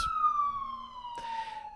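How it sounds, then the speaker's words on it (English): An emergency siren passes outside, a single falling wail heard at moderate distance with a brief burst of traffic noise partway through. "I am looking for those sirens to pass"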